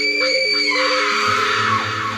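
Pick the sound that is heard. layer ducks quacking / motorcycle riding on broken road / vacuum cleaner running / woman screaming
woman screaming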